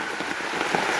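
Steady rain falling outdoors in rural Thailand, a continuous broadband hiss of drops on surfaces, close and fairly loud with no pauses and no talking.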